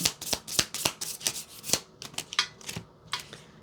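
Cards shuffled repeatedly in quick riffling bursts, crisp papery flutters close to the microphone, with short pauses between passes.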